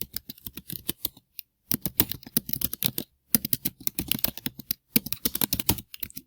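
Rapid bursts of keystrokes on a computer keyboard as a legal business name is entered into an accounting program, clicking in quick runs separated by short pauses, close and clear with no talking.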